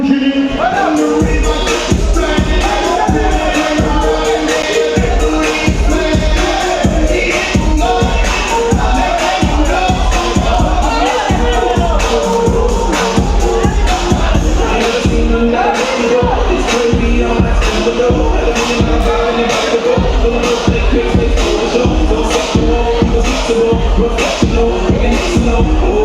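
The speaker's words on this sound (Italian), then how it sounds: "Applausi quindi a entrambi i pugili." Applause from the crowd for both boxers at an Olympic-style boxing match, a dense continuous roar of clapping filling the hall at full volume for the whole stretch.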